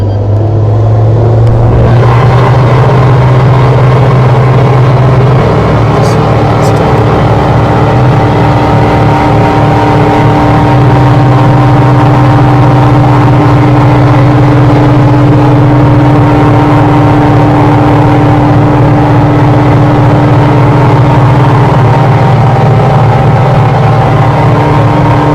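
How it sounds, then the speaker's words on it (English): Airliner jet engines roar steadily at takeoff in a Roblox flight game, a loud continuous droning rumble with a sustained hum that holds for the whole stretch without talk. "I'll just let you hear these strong engines."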